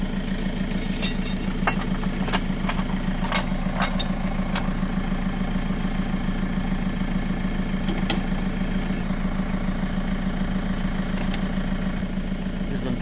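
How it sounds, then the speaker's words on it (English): A JCB digger's diesel engine runs at a steady idle with a constant low throb, joined early on by a few sharp metallic clanks and ticks nearby, with no speech. "the plan is to use that JCB to pull it on"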